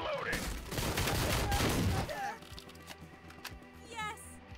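Shotgun fire from the video game Door Kickers: Action Squad comes as a dense flurry of loud blasts over the first two seconds. Softer clicks and game effects follow, with a voice faintly present.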